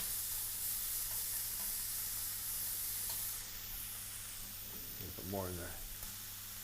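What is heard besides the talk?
anchovy butter melting and sizzling in a pan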